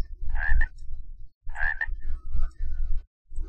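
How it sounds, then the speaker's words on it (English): Frogs croak in the TerraFirmaCraft video game, with repeated rhythmic croaking calls in bursts separated by short silences, fairly close and clear with no talk. "Shut up, frogs."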